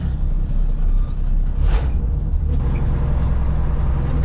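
A 1968 Ford F-350 dually truck drives along with a steady, loud, low engine drone and road rumble that hold constant throughout, with no talk.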